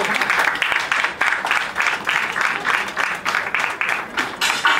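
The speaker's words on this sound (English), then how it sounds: "Please guys, bigger round of applause." Sustained audience clapping at a Mrs Chennai beauty pageant prize announcement, loud and continuous with a rhythmic pulse throughout, swelling in waves rather than stopping.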